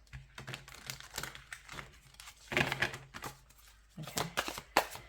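Soft papery riffles and flicks come in bursts as tarot cards are shuffled close up, with short pauses between handfuls.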